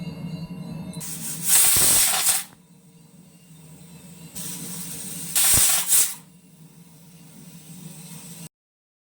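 A pressure cooker with vegetable dal and dalia inside lets out two sharp hissing whistles a few seconds apart. Each blast is loud and close, with a quiet kitchen hum in between.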